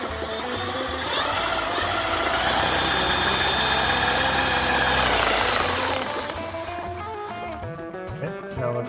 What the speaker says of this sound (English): The clutch appears to work correctly. I heard a clunk when I connected the power to it, and there you see the pulley turning.